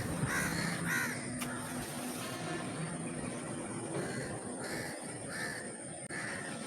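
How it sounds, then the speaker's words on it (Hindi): Crows caw repeatedly and loudly at dawn while other birds keep up a constant chirping underneath, with a dull steady background hum. "सिर्फ़ परिंदों की चहचहाने की आवाज़ आ रही है"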